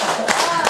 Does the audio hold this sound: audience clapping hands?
yes